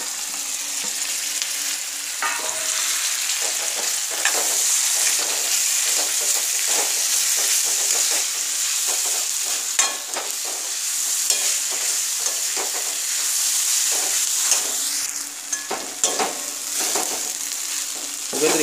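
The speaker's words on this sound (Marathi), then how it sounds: "टोमॅटो आणि जो आपण मसाला घेतला तो सर्व आता भाजून घेऊया याच्यामध्ये" Tomato and masala roasting in a pan for Konkan-style fresh cashew curry, a steady dense sizzle running throughout with frequent scraping stir clicks and taps, close and fairly loud, no talking.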